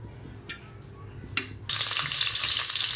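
Chillies dropped into hot oil in a cooking pot set off a sudden, loud, steady sizzle after a couple of brief metallic clinks, and the hiss holds close and continuous.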